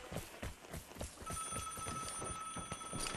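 Telephone ringing in the video game Vigor, a steady electronic ring under busy in-game noise and thumping footsteps, fairly faint in the mix.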